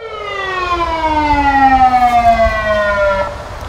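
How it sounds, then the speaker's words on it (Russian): A loud, close siren sounds during an emergency drill at a gas industry site in Orenburg, one long tone sliding steadily downward for about three seconds before cutting off, with no talk. "Звук сирены и никакой паники."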